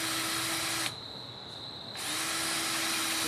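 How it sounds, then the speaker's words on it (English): A power drill with a dull bit whines steadily at high speed, briefly changing pitch as it bites into wood, then resumes its loud, constant whirr. "Pre-drilling the wood helps keep it from splitting."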